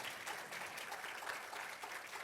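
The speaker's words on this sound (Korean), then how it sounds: "여러분 다시 한번 교수님께 큰 박수 부탁드리겠습니다." An audience at a Korean bio forum claps steadily for a professor after his keynote talk, a faint, dense patter of applause that holds evenly with no voices over it.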